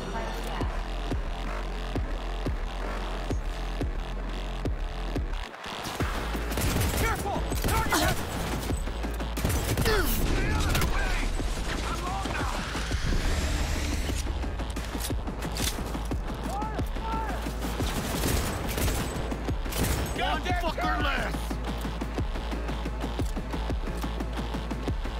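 Gunfire in the game Cyberpunk: a long run of dense, rapid shots and mechanical clatter, near and loud, continuing almost without a break, with a voice talking at times.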